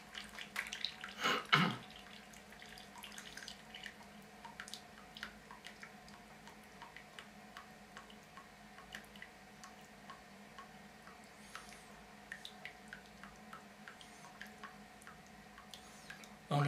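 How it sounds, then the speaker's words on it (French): Water drips slowly and faintly from disinfected horse dung left to drain, a sparse irregular patter of small drops over near-silence, preceded by a brief louder splash. "On laisse bien s'égoutter."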